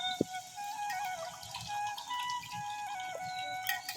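Water draining out through a pipe at a home: a steady trickle with light dripping, one sharper drip near the start, and a thin whining tone running over it.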